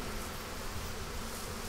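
Steady honeybee buzzing around a beehive in Crete, a dense continuous drone, with no voices.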